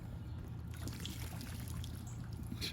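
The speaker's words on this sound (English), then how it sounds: "As you drain it, I can see it coming from the holes in the tires." Water trickles and dribbles out of the tire holes of an LT Xtreme amphibious land-and-sea RC vehicle, a faint continuous splashy patter with a few small drips, no voices.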